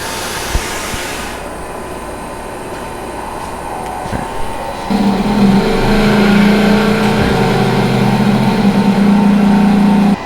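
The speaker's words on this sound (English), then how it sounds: "And now I'm going to pump down." Vacuum pump evacuating the chamber of an electron microscope, first a low background hum, then a loud steady droning motor hum that switches on partway through and runs continuously to the end.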